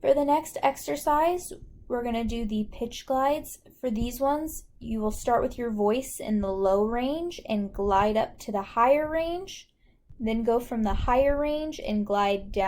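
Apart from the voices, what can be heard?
None of the usual background noises is heard.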